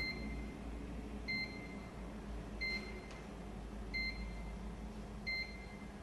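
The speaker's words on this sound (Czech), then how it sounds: "Stupeň 1 až 10 – jednoduché pípnutí." Single short electronic beeps from the receiver of a Sanela radar urinal flusher, repeating evenly about every 1.3 seconds over a steady low hum of background noise.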